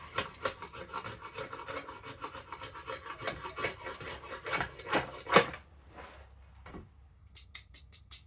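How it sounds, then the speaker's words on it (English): A drawknife shaves ash wood for a longbow in rapid rough scraping strokes with a slight rattle, close and fairly quiet, then stops, leaving a few faint clicks and scrapes. "Bit of rattle in my draw knife here."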